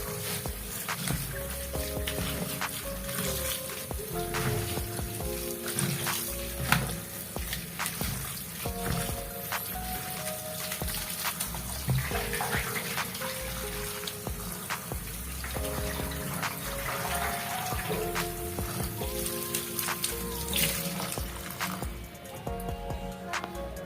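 Running tap water splashes steadily for a long stretch, with irregular clatters and knocks of items being rinsed under the stream.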